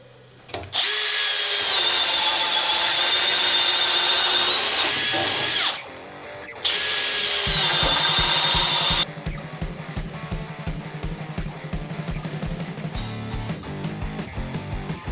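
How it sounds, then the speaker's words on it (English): A Makita XPH07 brushless 18V hammer drill with a self-feeding bit bores through 2x lumber in two loud, sustained whining bursts with a short pause between, followed by a lower rhythmic rattling hum. "so far I have drilled 75 holes"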